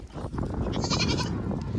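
Goats bleat repeatedly along a village street, several animals calling close by and loud over a busy low rumble of movement and background noise.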